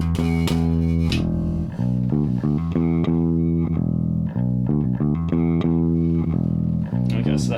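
Looped music plays from a looper pedal in a music workshop, a dense, continuous guitar-like pattern with distorted tone that repeats steadily and fills the whole stretch.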